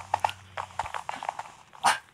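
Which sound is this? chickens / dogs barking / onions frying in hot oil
dogs barking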